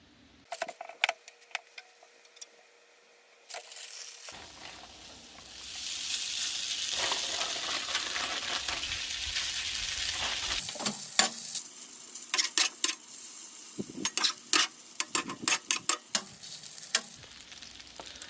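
Hash browns frying in butter on a Blackstone griddle, a steady broad sizzle rising partway through, with scraping spatula clicks and taps scattered over it, close and fairly loud.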